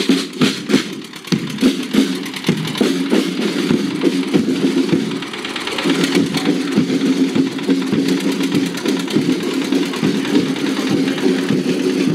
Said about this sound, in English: Carried on a tractor through the main streets of the town.